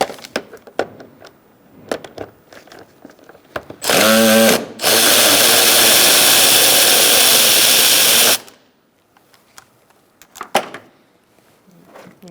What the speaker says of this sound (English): Now we're going to take out these two bolts using a 10mm socket.